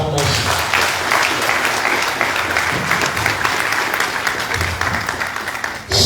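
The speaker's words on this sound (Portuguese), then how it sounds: "Mais uma salva de palmas" Loud, dense applause from a crowd at the opening of a parliamentary conference of the Frente Patriótica Unida in Malanje, steady and sustained throughout before cutting off at the end.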